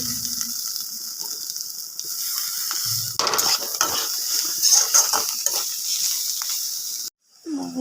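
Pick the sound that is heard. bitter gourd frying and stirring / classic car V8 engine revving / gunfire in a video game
bitter gourd frying and stirring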